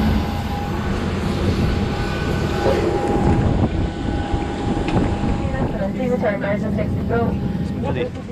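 Steady broadband roar of an airplane cabin on a flight home to Prague, a constant engine drone filling the space while people talk over it.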